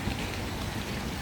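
Steady rain pattering on a surface in Fougères, a dense even hiss with no breaks, close and moderately loud.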